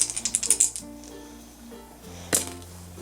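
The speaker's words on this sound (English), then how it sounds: "So as we rolled a double, let's roll again." Dice for a Bookopoly board game are shaken in a quick rattling burst and then land with a single sharp clack, while soft background music plays.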